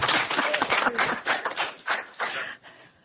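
People at a borough council meeting clap their hands in a brief, uneven round of applause that thins out and fades over three seconds.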